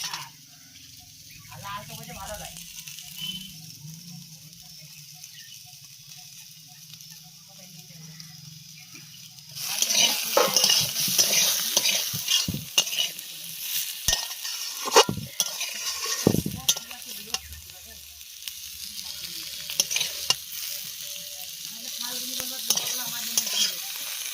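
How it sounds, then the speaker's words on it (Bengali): Neem leaves frying with eggplant, beans and potato: quiet cooking gives way to a loud, sustained sizzle with stirring clatter of utensil against the pan, and a voice speaks over it. "এবার আমি নিম পাতাগুলো দিয়ে দেবো।"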